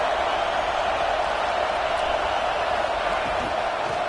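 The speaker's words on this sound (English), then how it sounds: "Listen to the crowd energy here in the early going." Stadium crowd in an EA Sports College Football 26 game, Penn State against Ohio State, a steady, dense roar of massed voices holding at an even level throughout with no breaks.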